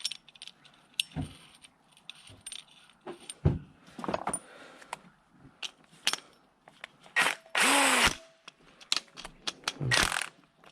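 A power tool works a bolt on a Mercedes Sprinter T1N tensioner pulley in short bursts, including one longer whir, mixed with metallic clinks and tool handling, close and intermittent with quiet gaps between.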